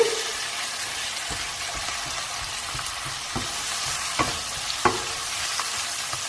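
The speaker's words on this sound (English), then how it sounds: "My onions are translucent, so I'm going to add my ginger and garlic paste. Mix that through." Ginger and garlic paste stirred into translucent onions frying in a pan for an Indian vegan cabbage and chickpea curry, a steady close sizzle with a few soft scrapes and taps of the spoon.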